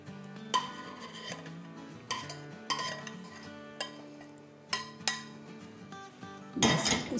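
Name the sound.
pouring pineapple brittle onto wax paper on cutting board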